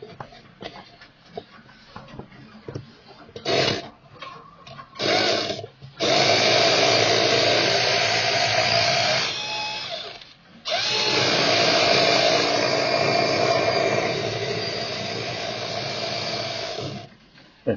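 A Tyco slot car motor from a US-1 Police Car Dodge Charger runs on a dyno, a buzzing whir that starts in short bursts, then holds in two long sustained runs with a brief dip between.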